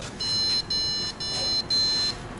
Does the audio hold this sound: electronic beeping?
yes